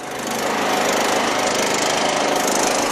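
Loud, close, steady engine drone of a Craftsman LT1000 lawn tractor running after carburetor work, rising in the first half second then holding a constant buzzing roar.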